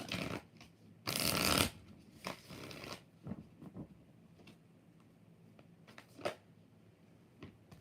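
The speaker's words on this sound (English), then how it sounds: "One more shuffle." Tarot cards are shuffled by hand: one loud riffling burst, then a series of softer, short shuffling rustles and taps spread unevenly across the moment, close by and with no talking.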